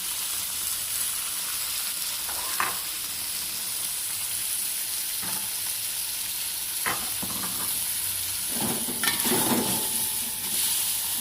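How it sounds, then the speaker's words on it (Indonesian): Chicken mandhi rice mixture stir-fries in oil with a continuous close sizzle and hiss, punctuated by occasional scraping and knocking of the utensil against the pan. "Nah, biarkan dia teroseng dulu ya."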